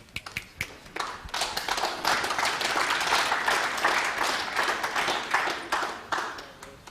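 An audience at a USA versus Philippines World Cup of Pool finals match breaks into applause, starting with scattered claps that build into a sustained, fairly distant ovation before tapering off.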